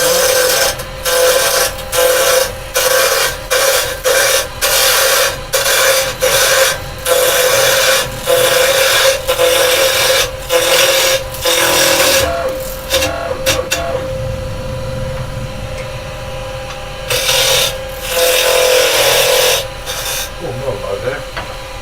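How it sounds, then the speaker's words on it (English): A woodturning lathe tool scraping a spinning piece of pine, giving a loud, rough rasping in repeated short bursts with brief pauses, then a longer steady stretch of scraping near the end. "Doing some scraping, but that will produce the most stuff."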